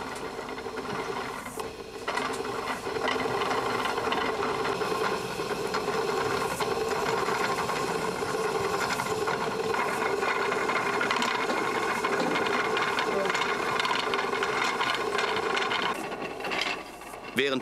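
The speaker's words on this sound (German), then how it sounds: "Von einer großen Spule mit Leinengarn, das vom Kettscheren übrig geblieben ist, wird der Faden nun auf die kleine Spule gewickelt." A wooden spooling wheel, turned by hand, winds linen yarn from a large spool onto a small elder-wood bobbin in traditional farm weaving, giving a steady close whirring, clicking rattle that runs on for many seconds.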